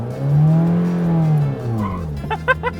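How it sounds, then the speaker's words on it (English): A Yugo with a dangling brake light revving as its tires spin, giving a loud sustained engine drone that wavers in pitch and then trails off into a few short squeaks. "You even spun the tires."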